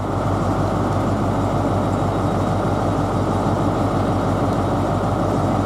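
An LNER Highland Chieftain train bound for Inverness departs London King's Cross, giving a loud, steady, continuous rumble that fills the whole stretch without a break.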